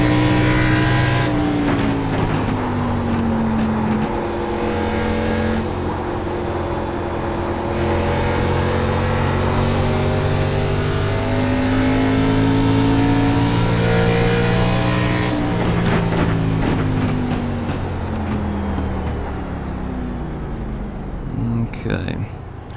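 Race car engine in the iRacing simulator, a loud, sustained engine note that climbs and falls through gear shifts with continuous revving, close and dominant for the whole stretch.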